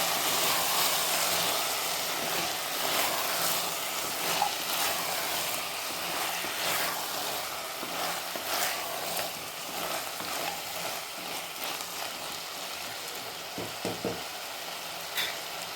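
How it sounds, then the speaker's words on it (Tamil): Potatoes and broad beans sauté in a pan with a steady, dense sizzle that holds loud and close throughout, with occasional scraping of stirring. "இதையும் சேர்த்து நல்லா வதக்கிக்கலாம்."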